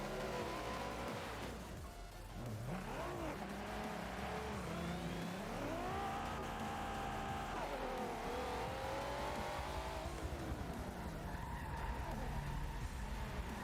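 Drift cars tandem-running at the Nürburgring, a lead car and a chase car including a GT-R R35 and a small Falcon, with engines roaring and revving continuously, tyres squealing through long slides, and a commentator talking over the loud racket.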